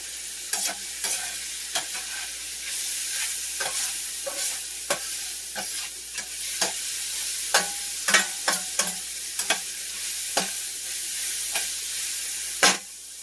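Vegetables for stuffed peppers saute in a fair amount of oil, a constant close sizzle marked by frequent clacking stirs and scrapes of a utensil against the pan, with no talking.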